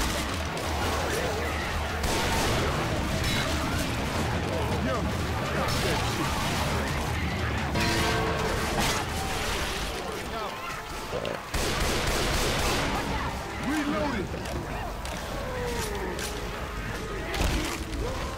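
Gunfire in the video game Left 4 Dead 2: dense, continuous bursts of shots and crashes keep going the whole time, loud and busy, with several players talking over the shooting.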